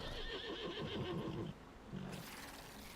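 A horse mount in World of Warcraft neighs with a loud, wavering whinny, followed by a short snort and a shift to quieter game ambience.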